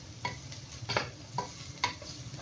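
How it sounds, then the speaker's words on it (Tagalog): A spoon stirs cream into a pot of egg macaroni soup, scraping in four steady, rhythmic strokes over a soft simmering sizzle, close and fairly quiet. "I-mix well lang natin."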